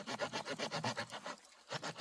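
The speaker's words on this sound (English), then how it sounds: "I want to try and saw" Rhythmic back-and-forth sawing through wood with the saw back of a Nedfoss machete knife, steady close strokes with a brief pause before resuming.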